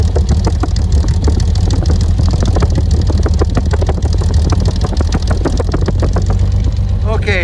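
A 1965 Mercedes-Benz 230SL with a 2.3-liter inline six idles through twin polished exhaust pipes, a steady close low rumble that runs throughout while someone talks over it.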